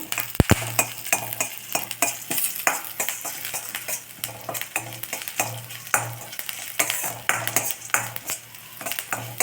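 Urad dal frying in hot oil in a pan for a semiya lunchbox dish, with a steady close sizzle and repeated stirring scrapes and clinks of a spoon against the pan, no talk.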